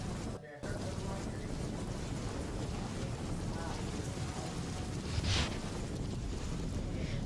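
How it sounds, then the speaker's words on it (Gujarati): Steady, dense hiss of heavy monsoon rain in Gir Somnath, Gujarat, fills the whole stretch, with a brief dropout near the start and a short brighter splash later on. "ધોધમાર વરસાદ વરસતા વરસાદી પાણી ઘરોમાં આવી ગયા"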